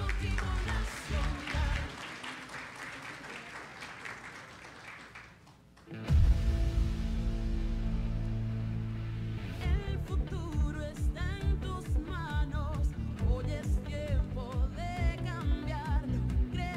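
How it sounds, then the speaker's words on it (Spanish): Audience at a national ceremony honouring outstanding teachers applauds. Clapping swells loudly after a quieter stretch, with music and a voice over a PA in the hall. "Fuerte el aplauso."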